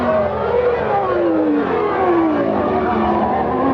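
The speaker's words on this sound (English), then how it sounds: "Nigel Mansell swirling through the chicane at low revs" Nigel Mansell's Williams-Renault Formula One car threads a chicane at low revs at the 1992 Japanese Grand Prix, a loud close engine note sliding through falling and rising pitch sweeps, continuous for a few seconds.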